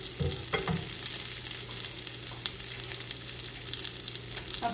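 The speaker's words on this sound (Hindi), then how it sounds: "हल्का सा फ्राई करेंगे इसे।" Chutney ingredients frying lightly in a pan, a steady close sizzle with gentle stirring scrapes and occasional soft clinks, alone without talk.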